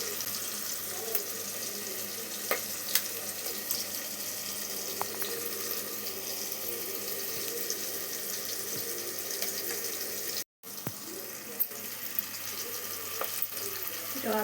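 Onion, garlic, green chilies, cumin and mustard seeds frying in hot oil as the base for an eggplant curry, giving a steady close sizzle with scattered small pops and a brief cutout partway through.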